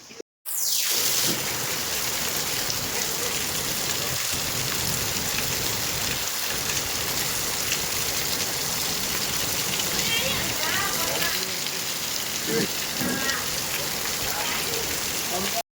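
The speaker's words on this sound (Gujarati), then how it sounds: "જો આટલો બધો વરસાદ છે જો પાણી જો અમારી સોસાયટીમાં પાણી પાણી થઈ ગયું" Heavy rain pours down across a housing society in Kutch, a dense, loud, continuous roar of water that carries on steadily from start to finish.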